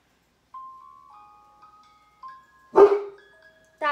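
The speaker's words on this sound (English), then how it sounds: "you're barking in the background, it's Dodger." A dog yips and barks in a home while people get ready for feeding time. Faint whining tones come first, then one sharp, fairly close bark and the start of another.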